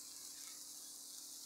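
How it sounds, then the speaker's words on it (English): Steady, quiet high-pitched hiss of food sizzling in a Ninja Foodi NeverStick Premium nonstick frying pan, continuous and even throughout with no talking. "you can hear the sizzle right off the bat"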